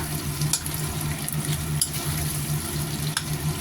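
Pork belly frying in a pan as its fat renders out, a steady close sizzle with occasional stirring scrapes, no voices.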